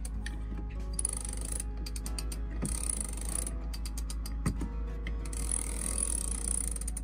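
An Andersen ST40 stainless steel sailboat winch, installed on a Hallberg-Rassy 312, ratchets as it is turned, with rapid clicking pawl runs interrupted by a couple of sharper clunks, quiet and close.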